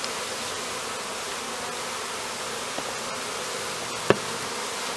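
Honey bees in a jar being rolled in powdered sugar for varroa mite monitoring, giving off a soft, continuous buzzing hum with a single sharp knock near the end.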